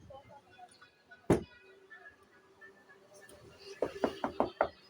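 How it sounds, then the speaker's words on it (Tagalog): Knocking on a door, first one loud single knock, then after a pause a quick series of five sharp raps, with a quiet voice speaking faintly in the background. "meron kumakatok sa inyo"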